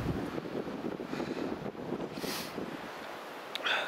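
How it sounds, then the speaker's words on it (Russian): Strong wind in a snowstorm blows in continuous, gusty rushes close to the microphone, with buffeting and no voices. "Метет сильно, ветер сильный дует."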